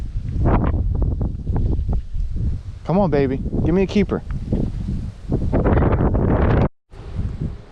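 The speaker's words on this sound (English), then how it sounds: "The wind gust got me." Gusty wind buffets the microphone during shoreline fishing for trout and redfish, a steady low rumble running under close speech, with stronger blasts near the end.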